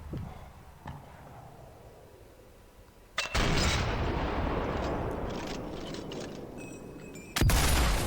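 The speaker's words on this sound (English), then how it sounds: "Didn't kill him with the first shot" Two loud sniper rifle shots in Sniper Elite 4 on PlayStation 4, each a sharp crack followed by a long booming echo, the first ringing out for several seconds before the second fires.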